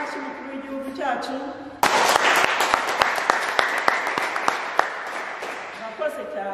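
Someone speaks over a PA system at a graduation, then the audience breaks into loud, dense applause for the head of state with sharp claps standing out, fading slightly toward the end.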